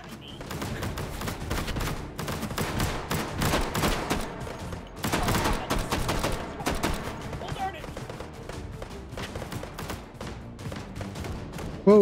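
Dense bursts of virtual gunfire in Hot Dogs, Horseshoes & Hand Grenades, a VR shooter played on HTC Vive in a tower custom map, with rapid overlapping shots throughout and speech mixed in.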